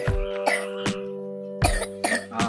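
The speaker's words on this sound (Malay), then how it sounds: "tengok anak saya batuk kan" A child coughs several times in short bursts, close and fairly loud, with a steady tonal hum running beneath.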